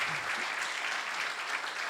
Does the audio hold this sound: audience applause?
yes